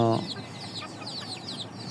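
Backyard chickens being fed rice and wheat cluck softly and repeatedly at close range after a short opening sound, a low, busy farmyard murmur.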